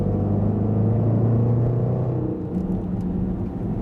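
A supercharged V8 in a Range Rover SVR, tuned by Urban Automotive, gives a steady, loud low rumble that swells slightly while revving, with no other sounds over it.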